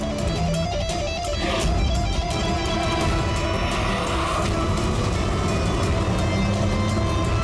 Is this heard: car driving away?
yes